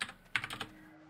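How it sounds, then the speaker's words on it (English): Quick bursts of typing on a computer keyboard, a cluster of soft clicks and key taps heard close and alone, followed by a faint steady hum. "I'm typing in"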